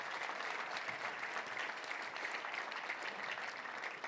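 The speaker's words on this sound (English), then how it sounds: "Let's give all of them a round of applause" Steady audience applause for sponsors at a Little Rock Touchdown Club luncheon, a continuous, even patter of many hands clapping, fairly soft and distant, with no speech over it.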